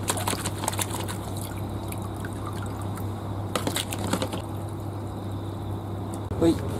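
Fermented cucumber seeds being washed in water, with soft liquid sloshing and trickling under a steady low hum, close and fairly quiet throughout.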